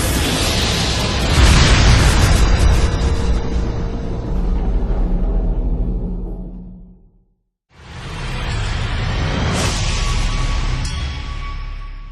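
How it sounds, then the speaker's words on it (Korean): A gas cylinder explodes after a torch flame flashes back into the fuel container, a loud sustained roaring blast that fades out, a brief silence, then a second powerful burst of rumbling noise. "한순간 역화로 인한 폭발로 이어질 수 있습니다"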